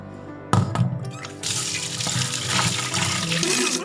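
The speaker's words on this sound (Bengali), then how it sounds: "ডালটাকে ভালো করে ডালটাকে ভালো করে ধুয়ে নেবো অনেকবার" A kitchen tap runs into a sink while lentils are washed for khichuri. It opens with a thunk and clatter, then water pours steadily and loudly close by.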